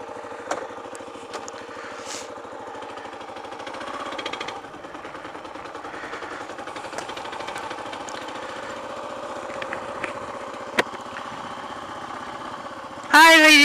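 A motorcycle engine runs steadily throughout a ride, with a low continuous drone and faint wind noise, rising louder and brighter in the final seconds.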